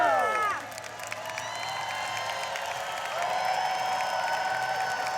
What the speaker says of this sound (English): Come on, guys, let's cheer them on.